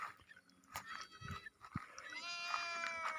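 Goats in a herd on a farm in Thailand bleat a few times over a brief stretch, the calls moderately close and mixed with outdoor farm ambience, no talking.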